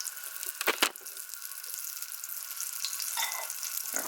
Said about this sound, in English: Now we're cooking. Now we're sizzling.